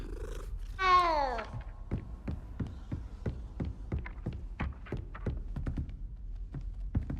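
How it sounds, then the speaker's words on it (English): A cat in Hogwarts Legacy gives a single short meow, then purrs steadily as it is petted, the purr pulsing in a regular, close, soft rhythm. "Pet the cat. Always pet the cat."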